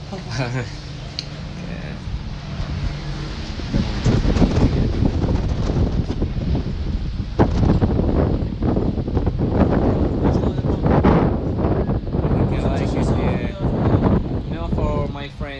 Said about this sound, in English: Careful, it's a bit windy